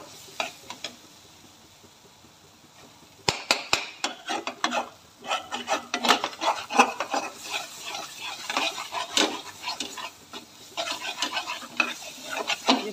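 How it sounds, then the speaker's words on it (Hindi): Jackfruit curry masala being fried and stirred in a pan for tari wala kathal: quiet at first, then steady sizzling with repeated scraping and clinking strokes of a spoon against the pot, close and fairly loud, with no talk. "बिल्कुल इसको अच्छे से भूनना है, ये बिल्कुल कच्चा नहीं रहना चाहिए,"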